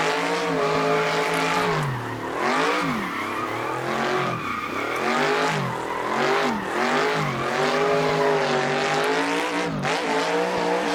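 A drifting car in Assetto Corsa, on mountain roads, screeches with loud sustained tire squeal over a revving engine whose pitch rises and falls repeatedly as the car slides through bends, with no talk.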